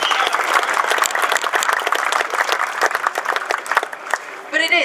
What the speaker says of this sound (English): I think round of applause.